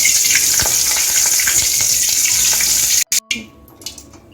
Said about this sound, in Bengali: কারি পাতাগুলি ভেজে নিচ্ছি।